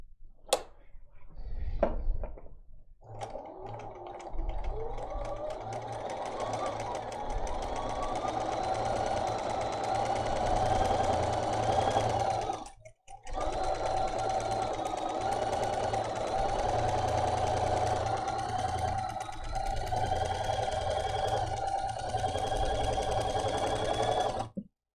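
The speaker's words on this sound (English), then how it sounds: "So now I'm going to come in here and I'm going to stitch my line" A sewing machine stitches a line across a quilt: after a few brief clunks it runs in a steady, close, fast mechanical whir, stops briefly near the middle, then resumes and continues to the end.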